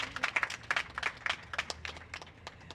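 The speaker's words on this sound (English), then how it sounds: "I would like to give them a round of applause as well" An audience at a fountain reopening ceremony gives MWRD staff a round of applause, a fairly faint, loose patter of individual claps that thins out toward the end.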